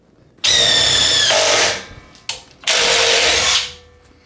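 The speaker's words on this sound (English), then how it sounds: "We're just gonna drill a couple holes." A DeWalt 20-volt brushless cordless impact driver whirs loudly in two bursts while drilling holes, each about a second long, winding up to high speed and spinning down, close by.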